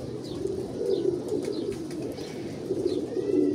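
Pigeons coo repeatedly in a loft, a low steady burble with soft cooing pulses throughout, joined by a few faint higher chirps.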